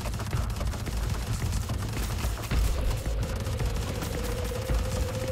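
Mech weapons firing in the video game Project Lazarus, a dense, sustained barrage of rapid gunfire with heavy low thuds and a rising tonal whine partway through, loud and continuous.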